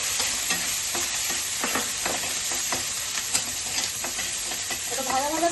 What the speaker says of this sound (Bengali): তো এটা একটু ভেজে নেবো আমি।